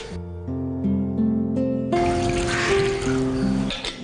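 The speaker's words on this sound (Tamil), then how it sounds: "இது கூட கொஞ்சமாக தண்ணி சேர்த்து" A little water trickles and drips into a blender jar holding fresh mint for a bean juice, a soft close pour alone with a faint tonal hum beneath it.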